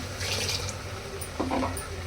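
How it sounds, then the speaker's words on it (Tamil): Water is poured into a pan of chicken gravy in short splashes, a trickle early on and a brief louder pour toward the end, over a low steady background hum. "அந்த தண்ணி தான் சேர்த்துக்க போகிறேன்"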